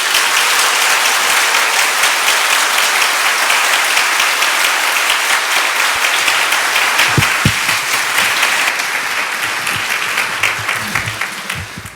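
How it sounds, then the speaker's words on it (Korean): A church congregation gives encouraging applause at the close of a Korean church service, a sustained loud wash of many hands clapping that softens slightly near the end, with a few nearby thumps. "우리 격려의 박수 드리겠습니다"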